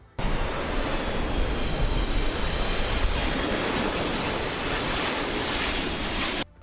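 A steady, loud roar of a jet airliner on the runway during an emergency landing, a broad rushing engine noise that holds constant for several seconds.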